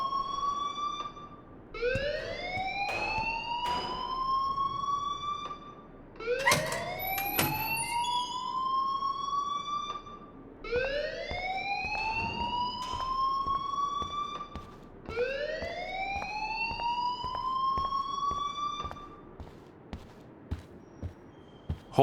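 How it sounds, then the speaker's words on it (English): A fire alarm in the video game Life is Strange sounds in repeated rising wails, four long sweeping cycles with brief gaps between them, fairly loud against a quiet background with faint clicks. "please turn off that alarm since that's your job"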